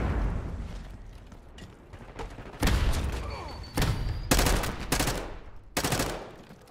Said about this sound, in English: I'm shooting at my own teammate.